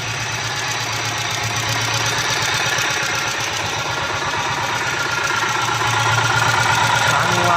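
Close and loud, a rebuilt auto-rickshaw engine with a previously broken crank idles in a rough, knocking chug that keeps a steady rhythm throughout, with no one speaking.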